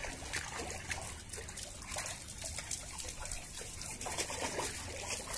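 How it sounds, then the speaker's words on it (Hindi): Clean water trickles and splashes steadily over a dog during a bath, a continuous close pouring rinse with no talking. "तो एक बार बिल्कुल साफ पानी से इनको मतलब बॉडी को वॉश कर देंगे अच्छे से।"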